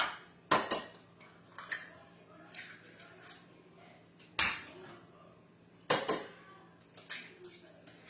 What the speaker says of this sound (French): Ensuite, on va y ajouter les œufs.